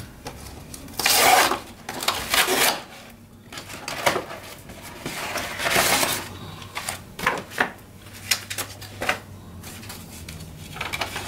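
Cardboard tab and packing tape being ripped off a donation box, heard as a series of close, loud tearing and scraping bursts with pauses between them.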